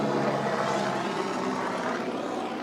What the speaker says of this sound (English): There's even a helicopter going above our head.